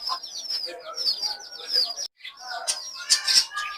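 Giribaz pigeons with chicks in a loft give a busy stream of high, close chirps and squeaks, with brief wing flutters and a short pause midway.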